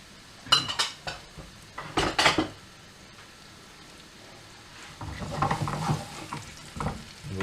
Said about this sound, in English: our onion and a tiny bit of garlic into a pan, and we just want to get those to soften up